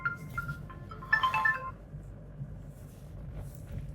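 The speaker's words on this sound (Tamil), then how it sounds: "கஸ்டமர் ஃபோன் பண்ணுறாங்க" A mobile phone rings with an incoming customer call inside a car, a short repeating electronic tone pattern that swells briefly, then fades to quiet cabin hum.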